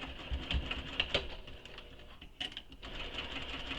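A sewing machine stitches the Wild Rose shoulder bag from Emmaline Bags in short, faint, uneven runs of rapid ticking with brief pauses between.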